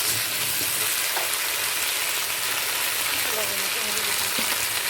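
Vegetables for khichuri frying in a pot over a village clay stove, a steady dense sizzle running throughout at moderate level.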